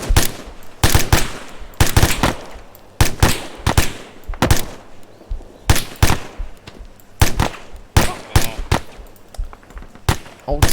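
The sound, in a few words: rapid gunfire in video game ArmA 3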